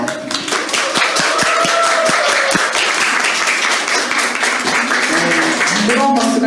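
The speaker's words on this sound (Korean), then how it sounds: "뜨거운 박수가 절로 나오네요." A seated audience at a live history talk in Seoul breaks into loud, sustained applause, dense clapping filling the room throughout.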